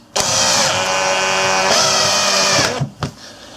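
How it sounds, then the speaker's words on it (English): Power drill driving sturdy screws to fix a C S Osborne No. 86 splitting machine to a workbench, one loud steady whir of about two and a half seconds, then a brief clunk. "using a couple of sturdy screws, we'll screw it to the bench,"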